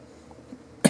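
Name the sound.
cough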